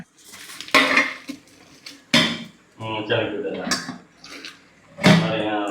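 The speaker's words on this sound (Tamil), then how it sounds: "என்னடா இது எப்படி மூடுவேன் பானையை தான் கோக்கணுமா" A clay cooking pot being covered with its lid in a home kitchen: a few separate metallic clanks and scraping knocks while someone talks between them.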